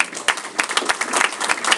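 Audience applause from a gathered crowd, a steady patter of many hands clapping with a few sharper individual claps standing out over the brief stretch.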